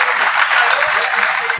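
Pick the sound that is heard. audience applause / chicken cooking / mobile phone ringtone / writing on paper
audience applause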